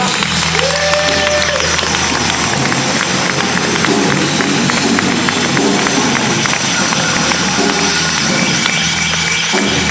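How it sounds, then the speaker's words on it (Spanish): Loud, dense applause from a large festival crowd, continuous clapping with a roaring wash of noise and some voices mixed in. "Un aplauso por favor a la señorita."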